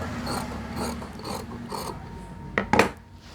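Scissors cut through blouse fabric in a series of rhythmic crunchy snips, followed by two sharper, louder cuts near the end, close up with no voices.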